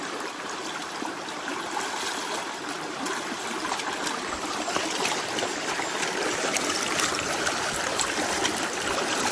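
A mountain river current rushes steadily and continuously, a dense close wash of flowing water with no voices, holding an even level throughout.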